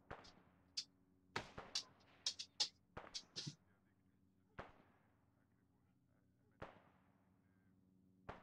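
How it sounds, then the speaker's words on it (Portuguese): Sharp gunshots in the video game Arma 3 crack out one after another in irregular bursts, some close and loud, others fainter and more distant, over a low steady hum. "Este tiro estão a ouvir"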